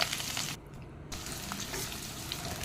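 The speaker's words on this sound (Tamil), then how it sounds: "சின்ன வெங்காயம் போட்டுட்டு கருவேப்பிலை போட்டுட்டு தாளிச்சுட்டு" Small onions and curry leaves crackling in hot oil as tempering for a Tirunelveli-style sardine fish curry, a steady close sizzle with a short drop midway and soft stirring sounds.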